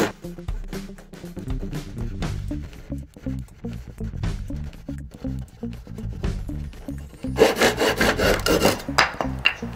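A hand saw cuts wood at a 45-degree angle in an SK11 miter box, a steady run of rasping back-and-forth strokes up close, harsher and louder near the end.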